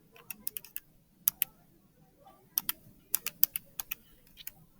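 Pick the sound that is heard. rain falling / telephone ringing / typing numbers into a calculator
typing numbers into a calculator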